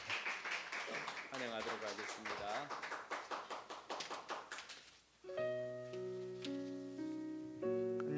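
A church congregation claps at a Sunday worship service, a quick rhythmic patter of hands under a man's welcoming speech, then a sustained electronic music chord swells in as the clapping fades.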